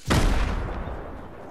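A single heavy gunshot blast in a first-person shooter game, a sharp loud crack followed by a booming decay that fades over about a second, with no talk.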